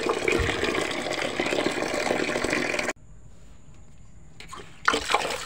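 Water gushes from a garden tap in a steady, loud hiss, then cuts off abruptly, leaving quiet with a couple of brief splashy bursts near the end.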